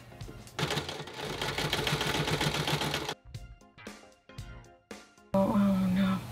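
A sewing machine stitches fabric around a homemade skirt, a fast rhythmic whirring run of about two and a half seconds followed by shorter stop-start bursts, close and moderately loud, ending in a brief noisy buzz.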